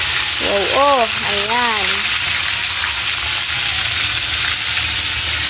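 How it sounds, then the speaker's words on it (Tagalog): Galunggong fish frying in hot oil in a pan, a loud, steady hiss and crackle that runs throughout, with a brief spoken exclamation near the start. "nilagay na po ni mama yung isda. Prituhin na po."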